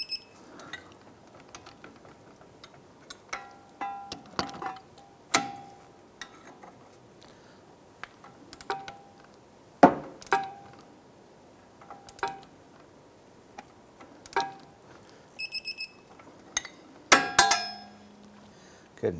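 Torque wrench tightening strut nuts on a 2001-2007 Ford Escape front suspension to 85 foot-pounds, heard as scattered sharp metallic ratchet clicks and clinks in separate bursts, moderately close against a quiet garage background.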